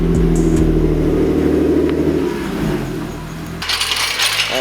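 A car's engine idles and rumbles steadily up close while it is turned around before an oil change, its tone shifting and easing off partway through, then a bright clatter cuts in near the end.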